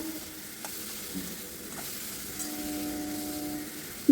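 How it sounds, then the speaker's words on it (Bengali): Pointed gourd stir-frying in a pan with salt and turmeric gives a soft, steady sizzle, with a few faint scrapes of the spatula against the pan and no talking. "লবণ আর হলুদ দিয়ে পটলটাকে ভালো করে নাড়িয়ে চাড়িয়ে ভেজে নেব"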